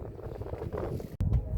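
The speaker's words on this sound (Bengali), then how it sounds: "ভালোই দক্ষিণে হাওয়া আছে" A southerly wind gusts over the Bidyadhari river in the Sundarbans beside a fishing boat, a steady low rumble against the microphone that briefly cuts out before surging back.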